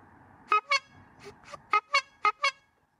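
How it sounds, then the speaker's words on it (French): Homemade cargo bike horn honks six times in three quick pairs, a bright nasal goose-like toot with clear harmonics, close and loud over faint background rumble. "Et écoutez le son de ce klaxon."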